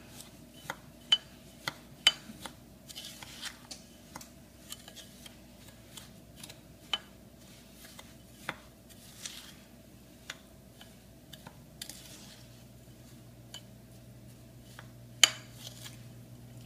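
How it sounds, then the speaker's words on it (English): Melted butter is stirred into a s'mores cheesecake mixture: sparse, light clinks and taps of a utensil against a bowl, irregularly spaced over a quiet background. "And then we are going to stir all this together."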